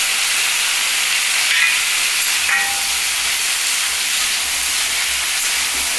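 Whole chillies and grated ginger frying in a pan, a loud, continuous close-up sizzle with a steady hiss and occasional small pops.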